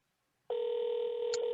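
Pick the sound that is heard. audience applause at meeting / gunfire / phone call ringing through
phone call ringing through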